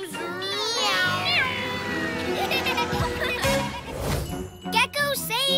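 A high cartoonish voice lets out a drawn-out meow amid playful voices and light jingling effects, a PJ Masks cartoon character imitating a cat.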